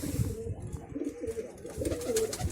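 Close pigeons give soft, rolling coos in steady succession, their low burbling calls filling the short stretch.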